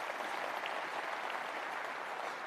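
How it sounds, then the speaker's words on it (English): Applause from an audience at an Illinois governor's second-term inauguration ceremony, a steady dense wash of clapping lasting a few seconds, moderately distant and even in level. "Yeah, you can clap to that."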